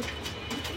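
Silver Rani breed pigeons give a brief, soft coo, faint and close, in a quiet setting without voices.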